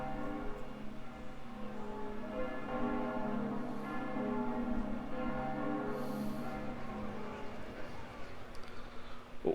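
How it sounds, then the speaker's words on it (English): A bell of pilgrimage tolls in Fate/Grand Order, a steady ringing with long sustained resonant overtones that fill the whole stretch without any talk over it. "Is that one of the bells of pilgrimage?"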